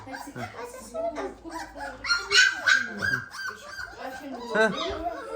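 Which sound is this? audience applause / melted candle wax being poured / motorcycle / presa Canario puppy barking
presa Canario puppy barking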